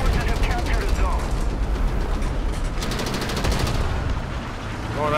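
KV-122 tank in a video game firing as a quick burst of close gunfire, sharp reports over a busy battle din, with players talking over the action.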